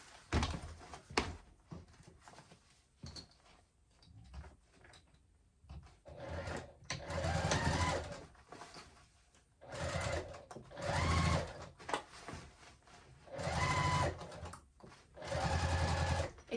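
Sewing machine stitching a bag lining in several bursts of rapid mechanical whirring, close and clear, separated by short pauses with faint handling thumps.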